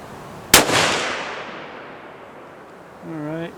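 A Ruger American rifle chambered in 7 PRC fires a single loud, sharp shot, followed by a long fading echo, with a brief voice near the end.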